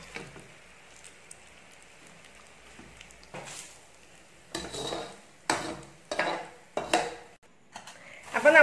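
Curry leaves, garlic and dried chillies fry in oil for a homemade bakery-style mixture, starting as a faint, quiet sizzle and then giving way to several loud, separate bursts of scraping and clattering as the pan is stirred.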